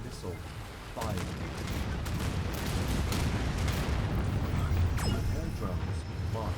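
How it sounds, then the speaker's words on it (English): Sci-fi battle explosions and launch roar from the strategy game Anno 2205, a nuclear missile strike: a dense, loud rumbling wall of blasts and crackling impacts, with sharp bursts near the one- and five-second marks. "Nuclear missile. Fire."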